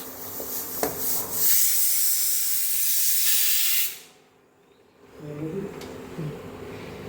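Ghee cooking down from milk cream in a pan, stirred with a wooden churner, gives a loud steady sizzling hiss for about four seconds, then falls away to quieter bubbling and faint clinks.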